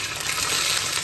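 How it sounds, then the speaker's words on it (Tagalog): Galunggong fish frying in a hot pan gives off a bright, dense sizzle that is steady and close for a brief moment, with no voices. "Prito tayo ng galunggong."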